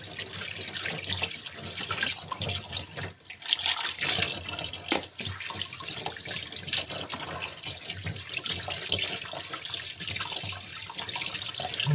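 Raw chicken is rinsed under a running kitchen tap, giving a steady, close splashing of water that continues without a break, with brief shifts in the splatter as the pieces are turned.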